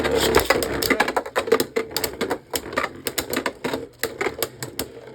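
Beyblade Burst spinning tops are launched and clash in a stadium, giving a rapid, irregular run of sharp plastic clicks and clattering hits over a steady whirring spin, close and fairly loud.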